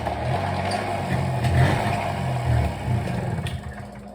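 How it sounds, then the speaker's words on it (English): Honda PA50ii moped engine revving hard at full throttle, a steady loud buzzing drone with a few surges, close by and without speech. "Okay, probably shouldn't have full throttled it."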